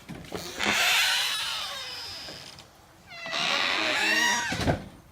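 A cat meowing in two drawn-out, wavering cries, each lasting one to two seconds with a short gap between them. The cries are close and fairly loud, with no clear speech.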